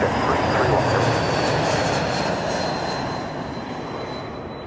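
A WestJet airliner takes off from runway 05 at Toronto Pearson Airport, its loud, broad engine roar holding steady and then slowly easing as it pulls away.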